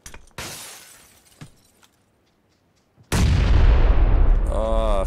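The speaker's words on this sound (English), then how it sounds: "Oh, frag grenade." A PUBG frag grenade bursts with a sudden loud blast and a long rumbling decay, after earlier scattered impacts and a short quiet gap, with a ringing electronic tone at the end.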